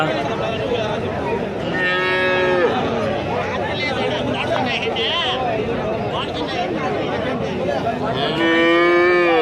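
Cows and calves lowing at a busy weekly cattle market in Kumnur, with repeated loud moos over a constant crowd murmur and nearby chatter.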